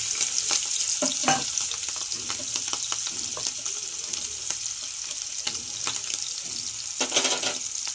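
Salted, turmeric-coated prawns fry in hot oil with a steady, bright sizzle throughout, broken by a few sharper spatters and stirring knocks, with no voices.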